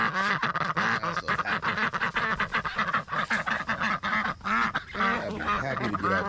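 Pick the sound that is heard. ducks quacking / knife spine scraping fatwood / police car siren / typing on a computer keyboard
ducks quacking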